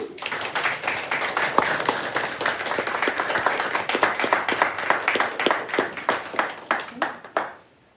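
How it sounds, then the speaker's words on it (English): Round of applause from a graduation audience, dense clapping at first that thins into scattered individual claps and stops near the end. "I think you can give yourselves a round of applause."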